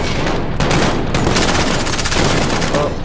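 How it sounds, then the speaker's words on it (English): Rapid MP7 submachine gun fire in Call of Duty: Modern Warfare, a dense, loud stream of shots with overlapping bursts and booms, with a voice partly heard under the gunfire. "I quite like this gun actually. Was it the MP7?"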